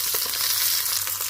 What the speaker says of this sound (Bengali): ডিম নিয়ে টোস্ট করে নিচ্ছি